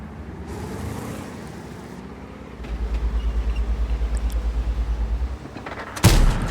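A tank cannon fires once in a tank video game, a sharp loud blast near the end that follows a long stretch of low rumbling engine drone.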